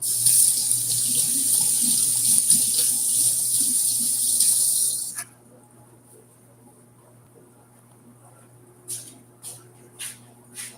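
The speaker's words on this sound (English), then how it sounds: "Rinse my hands off real quick." Running tap water gushes loudly for about five seconds as hands are rinsed at a kitchen sink, then stops abruptly, followed by quiet room tone and a few short soft knocks or clatters.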